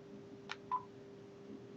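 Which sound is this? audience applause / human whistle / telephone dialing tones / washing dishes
telephone dialing tones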